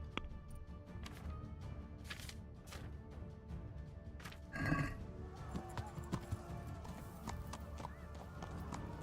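Horse hooves clip-clop at a steady gait during riding in the game Kingdom Come: Deliverance, with a brief whinny partway through and a faint voice now and then.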